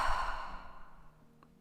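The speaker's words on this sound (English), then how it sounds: "Exhale through the mouth." One deep breath pushed out through the mouth during a morning yoga stretch, a soft, close, airy rush that fades over about a second.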